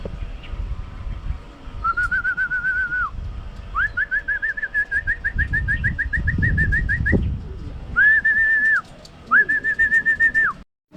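Racing pigeons gather on a loft landing board during club training on a windy day in Paete, Laguna; a series of clear, sustained whistle-like tones repeats in bursts over a low, rumbling wind bed.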